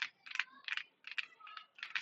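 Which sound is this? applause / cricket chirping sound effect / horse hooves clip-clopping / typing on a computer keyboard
typing on a computer keyboard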